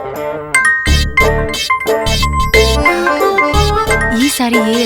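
A mobile phone rings with a bright, chiming melodic ringtone: a loud sequence of tinkling notes that repeats in quick bursts for several seconds.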